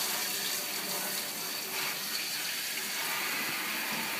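Cold water running steadily from a tap into a sink to cool a dishwasher wheel, a constant close splashing gush with no talk.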